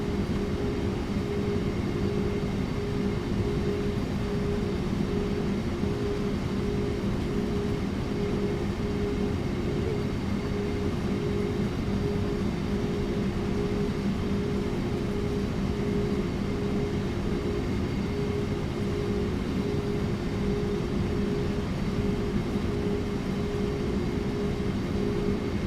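Electric train rolling through a tunnel on the Kassel–Würzburg high-speed line in Train Sim World, a steady loud rumble with a low hum, unchanging throughout with no talking.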